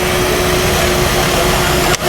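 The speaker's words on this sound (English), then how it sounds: "it provides power to the motor here with the vacuum suction" Bosch Bulldog rotary hammer with its optional power dust collection attachment, the vacuum motor roaring loud and steady with a constant whine, then briefly cutting off near the end.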